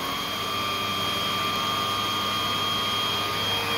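Tristar A101S vacuum cleaner running with its hose attached and the power nozzle switched on, making a loud, steady whirring roar that continues unbroken.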